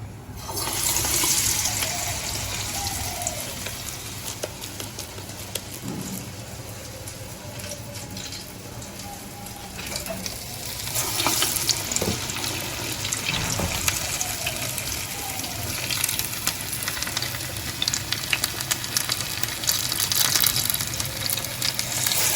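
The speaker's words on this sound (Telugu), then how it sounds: "నూనెలో ఫ్రై చేస్తున్నాను" Leafy green fritters made with mint, amaranth and four kinds of greens fry in hot oil, giving a continuous close sizzle and bubbling with slight swells throughout.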